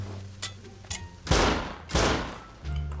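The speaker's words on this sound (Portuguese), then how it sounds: "Tá trancado o armário, vamos ter que quebrar no tiro" Gunfire in the video game Rust as a player shoots open a locked cabinet: a couple of light early shots, then two heavy, loud bursts of rapid shooting that ring out and decay, with quieter rumbling between.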